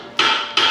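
Two quick hammer blows close by, each with a bright ringing tail, the second following about half a second after the first.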